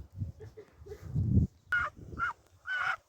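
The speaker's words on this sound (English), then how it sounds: "This is one of our geese, Daisy." Several loud, nasal honks from domestic geese on a small UK homestead sound close by, coming in uneven bursts with short gaps between calls.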